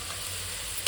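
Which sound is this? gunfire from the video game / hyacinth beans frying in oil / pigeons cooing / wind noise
hyacinth beans frying in oil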